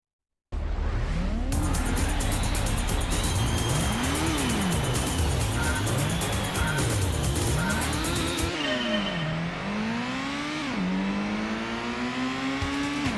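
Race car engine revving hard in Gran Turismo, rising and falling through repeated gear shifts as the car accelerates, loud and continuous from start to finish with no talk.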